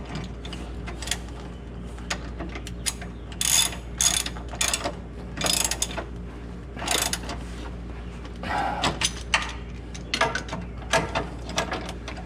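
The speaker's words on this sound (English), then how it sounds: "I'm torquing them because I want to" A ratchet tightens the rear shock bolts on a 2014 Jeep Wrangler JK. Repeated runs of sharp clicking come in uneven strokes over a steady low hum, close and clear, with no talking.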